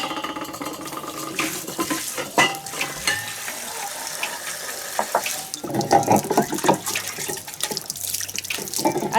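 Mushrooms washed under a running kitchen tap, a steady close splash of water into a sink with intermittent surges as the caps are rubbed and turned, no talking.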